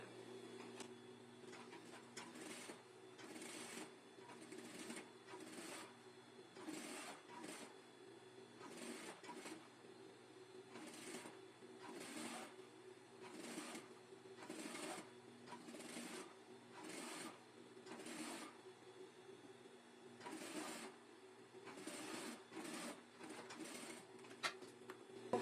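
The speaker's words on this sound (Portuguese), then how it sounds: "puxar ela e vou passar uma costura." Sewing machine stitching a seam on fabric for a kitchen set, with repeated soft bursts of rapid stitching separated by brief pauses, steady and fairly quiet.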